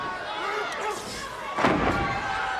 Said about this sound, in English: it's Deaton who slammed to the turnbuckle